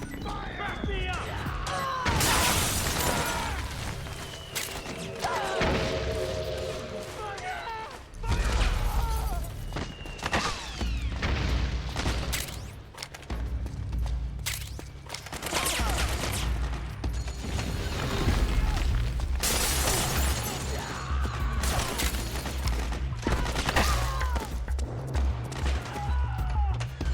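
Gunfire and explosions in Metal Gear Solid 4 battle: dense bursts of shots and heavy booms crash repeatedly throughout, loud and close, layered over rumbling mechanical noise and occasional shouted voices.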